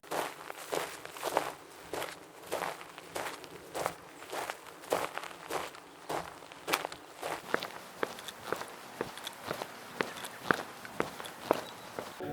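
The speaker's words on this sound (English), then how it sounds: "There's tons of walking sound effect here." Walking footsteps from a sound-effects library land as a steady series of crisp, evenly spaced steps, fairly close and moderately loud, continuing for about twelve seconds with no talk.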